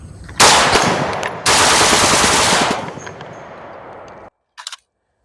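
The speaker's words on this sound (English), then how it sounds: "So now I'm just gonna mag dump both of these guns, and we're gonna see the controllability of kind of rapid fire" Two AR-15 rifles, one in .50 Beowulf, fire in rapid mag dumps, loud dense volleys of shots in two long bursts, then a brief trailing pop after the firing stops.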